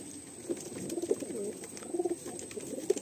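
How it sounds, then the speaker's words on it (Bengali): Madrasi pigeons in a loft at Behala Thakurpukur give soft, repeated cooing calls. Short throaty bursts cluster in uneven bunches over a quiet background, with no speech. "এটা হলো নর পায়রা, আর এটা হলো মাদি পায়রা"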